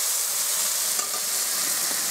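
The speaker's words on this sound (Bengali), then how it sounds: "পেঁয়াজের সাথে টমেটোটা আর একটু ভাজা হোক।" Tomatoes and onions fry in hot oil in a pan, giving a loud, continuous crackling sizzle with faint stirring scrapes and no voices.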